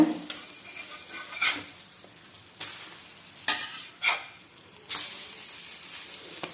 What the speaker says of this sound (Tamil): சின்ன சின்ன அடை மாதிரி ஊற்றிக்கிடுங்க ஸ்லோவாக வச்சுருக்கேன் இப்படி மாற்றி போட்டுக்கிடுங்க